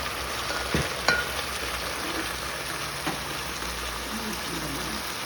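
Beef and vegetables stir-fry in a hot pan with a steady, even sizzle and a couple of faint clinks, fairly quiet and close.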